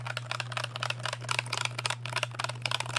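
Rapid plastic key clicks tap in quick irregular bursts over a low steady hum, close and crisp.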